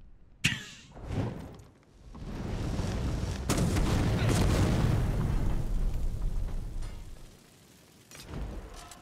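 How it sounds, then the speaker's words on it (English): A barrel is smashed in heavily modded Skyrim, giving a sharp crack followed by a long, loud, rumbling burst that swells and slowly fades, then a few smaller knocks. "Destroy the barrel."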